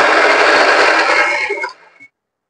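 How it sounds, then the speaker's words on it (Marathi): A mixer grinder whirs loudly while grinding masala paste for egg masala, a dense, close motor drone lasting under two seconds before it winds down and cuts off. "आता आपण मिक्सर मधून वाटून घेऊया."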